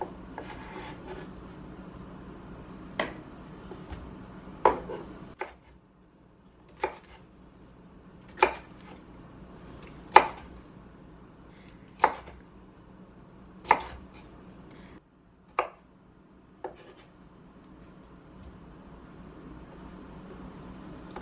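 A kitchen knife chopping vegetables and parsley for tabbouleh on a cutting board, about a dozen separate sharp knocks spaced a second or two apart, close and clear against a quiet room.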